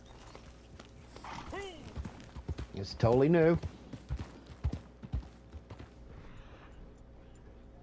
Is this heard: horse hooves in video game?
yes